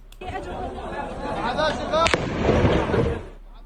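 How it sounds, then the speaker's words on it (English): Gunfire near people fleeing in Jenin in the West Bank cracks once, sharp and loud, midway through a steady wash of crowd commotion and overlapping voices. "You can see people fleeing as gunshots go off in the vicinity."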